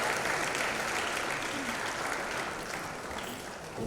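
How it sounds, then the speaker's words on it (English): An audience at the Social Innovators Programme and Awards 2022 claps for the keynote speaker, a steady, moderately loud wash of applause that tapers slightly toward the end. "I thought the applause will be louder."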